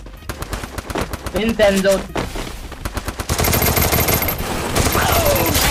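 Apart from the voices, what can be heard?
gunfire in Free Fire Clash Squad video game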